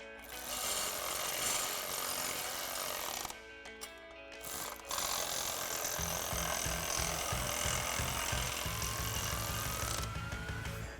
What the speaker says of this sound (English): we'll take our 14mm wrench and socket to tighten this down